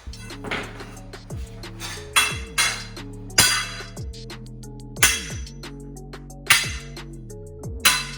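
Repeated metallic hammer strikes ring out at a steady, unhurried pace as a metal piece is bent into a curve for a rat rod chassis, each hit clanging and decaying with a resonant tone.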